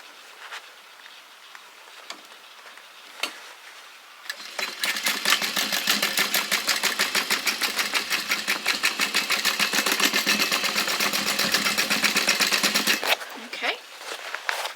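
A sewing machine runs a straight seam on fabric for a car trash can, with a fast even mechanical chatter that lasts several seconds and then stops. Quiet clicks and handling come before and after it.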